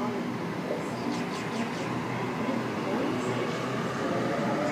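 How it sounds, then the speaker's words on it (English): Sydney Trains Richmond service pulls out of Schofields station with a steady mid-level rumble and a brief squeal of wheels and brakes, with faint talk underneath. "I'm only going to get the Richmond train departing"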